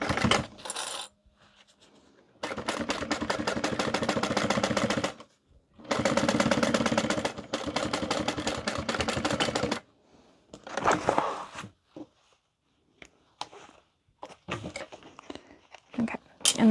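A sewing machine stitches down the center of a tote bag in several long bursts of rapid mechanical whirring, separated by pauses filled with small clicks and handling noises.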